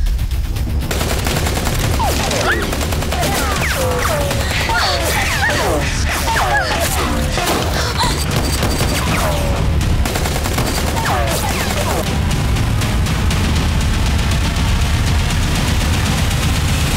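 A shootout in a Filipino TV drama brings a sustained barrage of rapid gunfire, dense volleys crackling continuously for many seconds at loud, close range.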